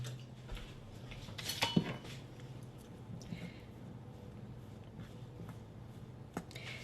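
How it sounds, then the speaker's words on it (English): A spoon works plain yogurt dough in a bowl, making soft, quiet squishing and a few light scrapes and taps against the bowl, with a louder clatter near the start. "this is how easy it is to mix it with just a spoon"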